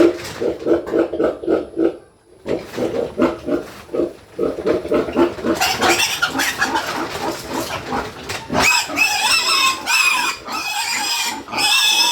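Piglets about 50 days old grunt and squeal repeatedly and loudly up close while being weighed and moved to a new pen, the cries rising into long shrill squeals toward the end.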